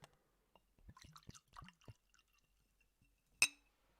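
Bourbon trickles and drips into a glass in short, soft splashes, then stops. After a pause comes one bright, ringing clink of glass, close and clear in a quiet room.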